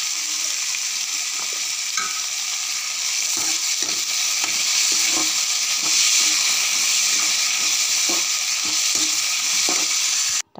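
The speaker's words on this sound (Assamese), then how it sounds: "তিতা কেৰেলা আলু ভাজিম বুলি এইফালে কেৰাহী পাতি তেল দি পিঁয়াজ অকণমান দি লৈ এই চব্জিখিনি দি লৈছোঁ।" Bitter gourd and potato with a little onion fry in oil in a wok, making a loud, continuous sizzle with occasional soft scraping as the vegetables are stirred.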